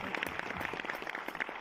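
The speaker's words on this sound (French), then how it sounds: "Applaudissez Jean-Paul Belmondo quand même" An audience applauds in honour of Jean-Paul Belmondo, a brief patter of clapping from a modest crowd, fairly even and moderately loud throughout.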